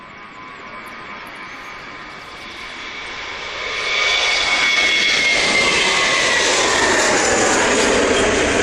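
A Lufthansa Airbus A321 jet airliner bound for Munich at Manchester Airport gives a steady, swelling jet roar that grows louder midway and holds, heard from a distance without speech.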